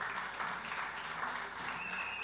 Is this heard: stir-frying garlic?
no